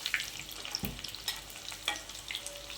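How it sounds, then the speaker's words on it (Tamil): Masala and vegetables fry in a pan while being stirred, a soft continuous sizzle broken by scraping clicks and knocks of the spoon, close and fairly quiet, with no talking. "நல்லா திருப்பி விடுங்க. எல்லா பக்கமும் சேர்ந்து நல்லா பொரிஞ்சு வரட்டும்."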